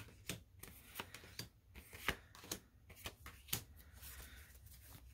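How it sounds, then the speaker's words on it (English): Tarot cards are shuffled close by, giving soft riffling and slapping taps in an uneven rhythm at low volume, with no talking. "I will shuffle until the message comes out or I'm told to flip a card"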